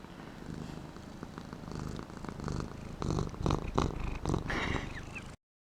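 A house cat purring loudly right up close, a steady rumbling drone that swells and pulses with its breathing before cutting off abruptly, with no talking.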